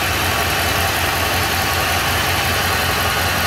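A car engine idles steadily after an oil pressure sensor replacement, a continuous even hum with a low rhythmic pulse, close and alone with no talking.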